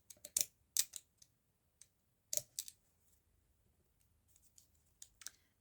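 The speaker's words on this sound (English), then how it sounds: "The problem with these fun scissors is sometimes they don't want to cut all that well." Decorative fun scissors cutting paper in short crisp snips, several clustered close and loud early on, then sparser quieter cuts and rustles, with no voices.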